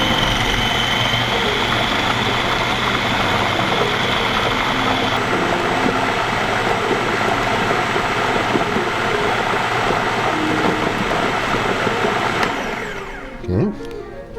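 Kitchen blender whirling fruit and a peeled lemon for mango fig almond butter ice cream: a loud, steady motor roar runs for about twelve seconds, then winds down and stops with a brief clunk.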